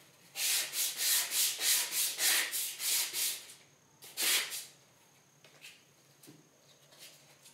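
Rhythmic back-and-forth scratching of 120 grit sandpaper on wood, about a dozen quick strokes, then a pause, a couple more strokes and faint handling.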